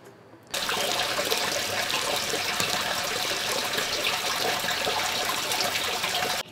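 Water pours steadily from a gutter pipe into a homemade rain barrel, a constant close rushing flow that starts abruptly and runs unbroken until it cuts off at the end.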